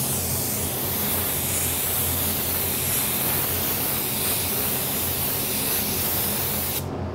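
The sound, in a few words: spray gun spraying sealer coat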